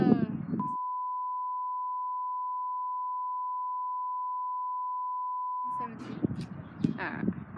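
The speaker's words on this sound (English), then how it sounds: "We're gonna beep that shit out" A long steady censor beep, a pure tone of about five seconds, cuts through a conversation in a bathroom and silences it. Talk is heard just before the tone and resumes right after it.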